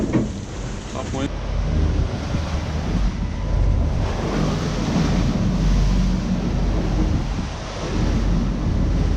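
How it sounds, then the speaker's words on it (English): Wind and waves at sea surround a Lagoon 450 catamaran crossing the Bay of Biscay while sailing upwind. A loud, continuous roar of wind buffets the microphone and waves wash and surge beneath it, with a faint voice in the mix. "The wind should go down a little bit, but the waves are gonna stay."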